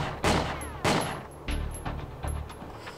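Gunfire from the WinBack video game hits a box: five sharp, loud gunshots spaced roughly half a second apart, each with a short ringing tail, with no talking over them.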